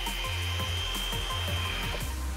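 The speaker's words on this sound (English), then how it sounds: "Drill a hole." A small drill bores a hole for a DIY craft, its whine dipping and rising in repeated strokes as the bit bites in, loud and close over a steady motor hum.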